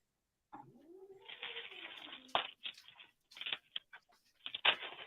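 Cats meow and caterwaul in a string of drawn-out, wavering cries with short gaps between them, fairly close and loud, in a home kitchen.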